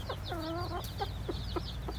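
Chickens cluck close by, a rooster with a hen, giving a run of drawn-out harmonic calls followed by several short, sharp clucks over a steady low farmyard hum.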